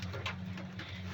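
Soft pigeon cooing close by, a few low murmuring calls repeating in quick succession against faint background noise.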